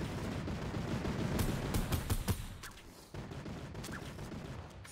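Fortnite battle royale squad fight with a string of loud gunshots and rapid bursts of fire, several sharp cracks clustered mid-clip, then softer distant shots over a steady game ambience.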